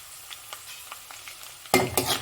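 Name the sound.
curry leaves frying in oil for semiya upma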